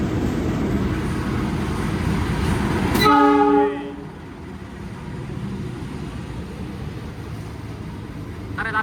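A passenger train rolls through Brebes station, a steady loud rumble with a sharp horn blast near the three-second mark, then the rumble eases and carries on at a lower level.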